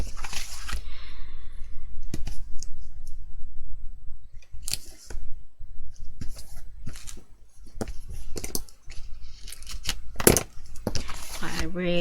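Scissors snip and scrape through tape on a cardboard book box, a run of uneven close clicks and cuts with short pauses between them.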